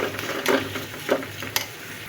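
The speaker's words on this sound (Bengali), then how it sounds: "এই যে আমি বারবার একটু নাড়াচাড়া দিয়ে দিচ্ছি" Taro and taro leaves frying in oil in a pan, stirred with a spatula, making soft repeated scraping strokes over a low steady sizzle, with a sharper tap near the end and no voices.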